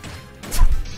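A final smash attack in Super Smash Bros. Ultimate lands as a single loud crashing impact with a heavy low boom and swishing burst, brief and close.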